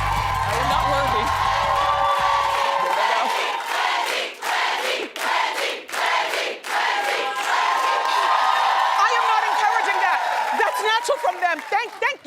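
A live audience cheers and applauds, with a loud, sustained roar of crowd noise, shouts and clapping that swells and dips with a few pauses.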